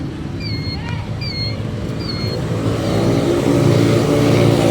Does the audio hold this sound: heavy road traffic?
yes